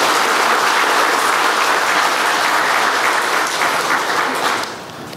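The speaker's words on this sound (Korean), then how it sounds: "격려의 박수 한번 쳐주시면 감사드리겠습니다." A church congregation claps together in steady, dense applause during a Sunday worship service, loud and sustained before fading slightly at the end.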